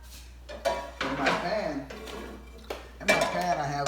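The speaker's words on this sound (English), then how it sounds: "right now I'm gonna move over to the oven where I start to brown or fry my bacon" A pan is handled on a stovetop with clattering metal knocks and scrapes of cookware, several short bangs spread through a few seconds while a person talks over it.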